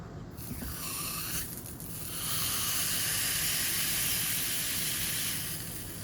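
A split hot dog sizzling on a Maxim electric crepe maker, a steady bright hiss that swells louder after a brief quieter stretch, close and continuous with no talking.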